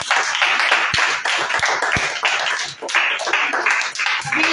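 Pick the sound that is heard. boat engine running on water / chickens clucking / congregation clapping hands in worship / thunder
congregation clapping hands in worship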